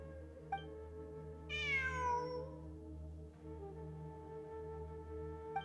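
Cat in the Genshin Impact video game giving one clear, falling meow near the middle, set against a steady low ambient game drone with soft clicks.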